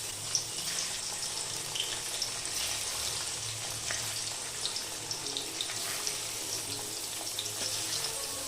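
Paneer cubes fry in white oil with a little salt, a steady soft sizzle and bubbling hiss running evenly throughout with small crackling pops, no voices.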